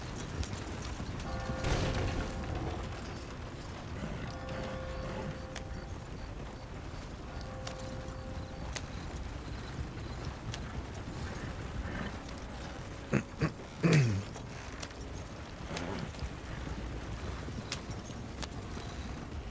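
Horse hooves clip-clopping in the Red Dead Redemption video game, set in the Wild West, with an occasional whinny and a few sharp impacts mixed in, fairly quiet and steady throughout.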